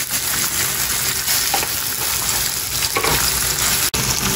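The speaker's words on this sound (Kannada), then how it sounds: "ಇದನ್ನು ಒಂದು ಸ್ವಲ್ಪ ಹಿಂಗೆ ಫ್ರೈ ಮಾಡೋಣ." Roughly cut onion fries in a pan with a steady, close, broadband sizzle that holds evenly throughout, broken only by one brief clack near the end, with no voices.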